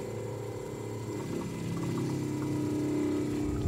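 A Rocket Spray sprayer's pump primes on a lawn watering setup, giving a steady, fairly loud electric hum and whir that builds slightly and holds on without a break.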